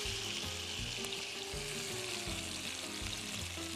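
Roasted peppers go into a pan where garlic is already sautéing in olive oil, giving a continuous close sizzle with soft rhythmic stirring thumps underneath.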